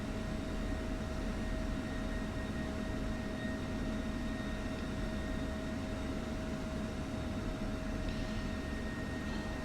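A jet aircraft taxis toward the runway in the DCS flight simulator, giving a steady, continuous engine roar with a sustained whine, loud and unbroken throughout, with no talk.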